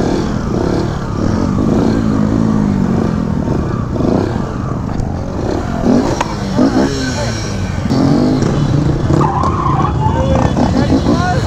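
A stunt motorcycle rides circles in a lot in Springfield, Missouri, its engine roaring loud and steady while the tires skid and squeal, with indistinct voices faintly underneath.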